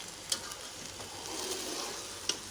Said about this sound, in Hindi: अच्छी तरह इसमें हम मिक्स कर रहे हैं चावलों को